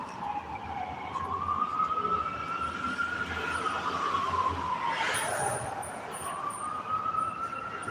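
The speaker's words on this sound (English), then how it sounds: "Another one. That's an old ass ambulance." An old ambulance siren wails past on a city street, its tone rising and falling as it approaches and recedes, loud over steady traffic rumble with a brief sharp burst midway.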